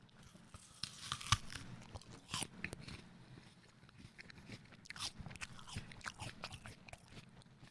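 A Jazz apple is bitten and chewed up close, with juicy crunches, tearing flesh and wet mastication coming in uneven bursts with no talk.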